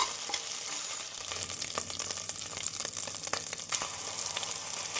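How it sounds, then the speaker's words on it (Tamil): Ground masala paste sautéing in a pan for a nattu kozhi kulambu, a close, continuous crackling sizzle with scraping stirs scattered throughout and no talking. "மசாலாவை சேர்த்து நன்றாக வதக்க வேண்டும்."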